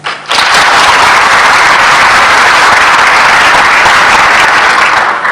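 Loud, dense applause from a crowd starts abruptly and continues evenly throughout, close and sustained.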